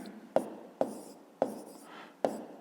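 Pen strokes scratch across paper in a math exercise, sounding as soft rustling with a sharp tap every half second or so, quiet and close.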